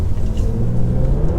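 A 2019 Toyota Avalon Limited, a front-wheel-drive sedan, accelerates on a road, its engine a steady low rumble heard from inside the cabin without talk.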